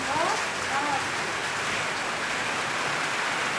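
Heavy rain pours down in a dense, constant hiss, loud and unbroken, with faint voices briefly audible beneath it.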